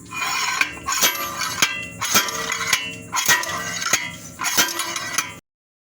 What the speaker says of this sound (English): we're going to do that with this slide hammer